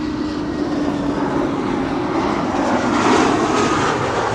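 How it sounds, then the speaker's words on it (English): A KLM Embraer 190 airliner arrives at Amsterdam Schiphol and passes by, its engines a loud, steady roar that swells slightly toward the end. "KLM Embraer 190 arriving from Leeds."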